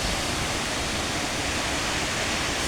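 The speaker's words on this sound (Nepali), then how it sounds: "ल झरना चाहिँ मजाले बढेछ है।" The Chaharey waterfall in Manang rushes as a dense, continuous roar of falling water, loud and unbroken throughout with no voices.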